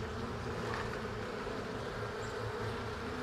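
Bees buzzing inside a weak, syrup-fed beehive with mixed intermediate and medium frames, a steady close-up drone with no talk.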